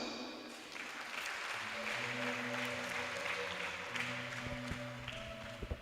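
An audience claps steadily at a community celebration honouring members of a fraternity group, with the sustained broadband patter carried over a low, steady tonal hum.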